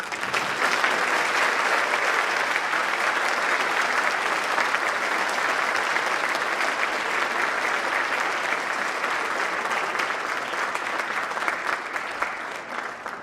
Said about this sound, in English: please join me once again in applauding all of our new Honor Society members